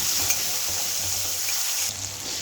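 Masala paste of turmeric and salt sizzles steadily in hot oil for a Bengali jackfruit and prawn curry, a dense continuous crackle with faint low scraping from stirring.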